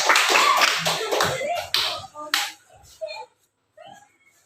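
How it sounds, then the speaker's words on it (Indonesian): Children clapping hands together in a classroom, a loud burst of many claps that thins into a few scattered claps and then fades into quiet. "Iya, tepuk tangan semuanya."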